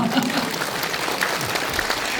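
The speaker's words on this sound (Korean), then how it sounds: "박수 한번 주십시오" A crowd at a political book concert applauds continuously, a dense, even patter of clapping filling the whole stretch.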